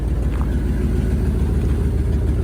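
A Ford Expedition with a haphazardly fitted exhaust and oil leaks idles steadily nearby, a continuous low rumble with a faint uneven pulse and no speech.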